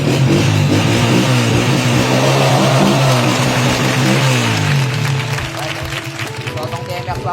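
A TMX 155 motorcycle with a new CDI and carburetor revs hard and close, its pitch swinging up and down through several throttle blips before dropping back to a lumpy idle.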